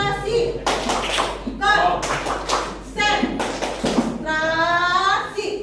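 A primary-school class in an Indonesian language lesson performs the 'tepuk konsentrasi' clapping routine: bursts of sharp group claps alternate with chanted and sung voices, close and lively.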